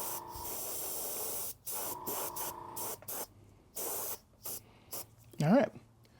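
An airbrush sprays paint onto a Battletech miniature in hissing bursts of varying length separated by brief pauses, close and steady, with a short vocal sound near the end.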